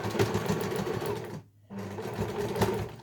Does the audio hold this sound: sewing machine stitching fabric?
yes